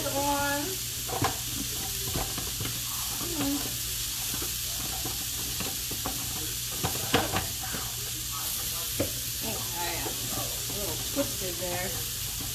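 Skirt steak fajitas sizzling in a pan, a steady bright hiss with scattered crackles and a few utensil clicks, close up, over a low constant hum, with faint voice sounds now and then.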